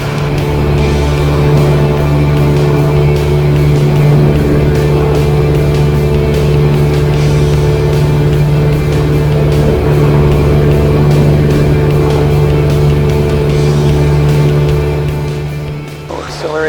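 A Piper Cub STOL airplane accelerates for takeoff on a grass runway, its piston engine holding a loud, steady droning roar with a low hum throughout.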